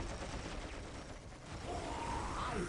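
Splinter cannon fire from an Archon in Dawn of War Soulstorm, a dense, crackling rapid-fire barrage that rattles on without a break through a busy real-time strategy battle mix.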